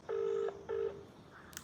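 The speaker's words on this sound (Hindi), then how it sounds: "तो एजेंसी में फ़ोन करके कंफर्म कर लेता हूँ।" Two long telephone keypad tones sound in quick succession, loud and close while a call is placed to a gas cylinder agency, followed by faint room noise.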